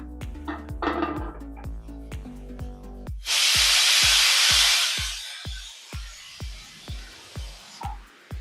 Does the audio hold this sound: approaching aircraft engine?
no